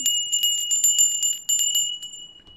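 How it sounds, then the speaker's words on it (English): Tinkly bells chime in a quick, bright cluster of repeated rings, fairly close and clear, fading out after a couple of seconds with no talk over them. "Tinkly bells."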